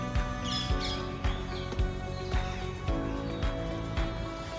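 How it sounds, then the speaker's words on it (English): Small birds chirping in short, scattered calls outdoors, fairly faint against a steady background with occasional clicks. "Can you listen to the birds chirping in the background?"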